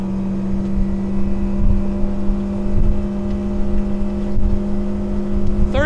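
A 2008 Carolina Skiff 178DLV runs at full throttle on its Yamaha 75 HP outboard. The engine gives a steady, close, droning hum that holds level throughout, with a rising whine near the end.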